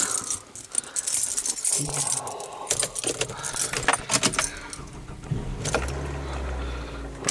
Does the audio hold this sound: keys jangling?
yes